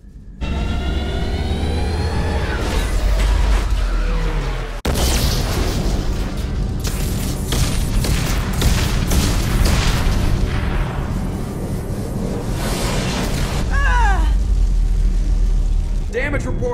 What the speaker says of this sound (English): Explosion in main engineering.